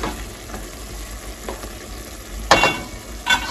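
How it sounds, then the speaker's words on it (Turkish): Tomatoes fry and sizzle in a pan, a steady close hiss with a few sharper crackles and spatters toward the end. "Şöyle domatesimiz bayağı kavrulmuş."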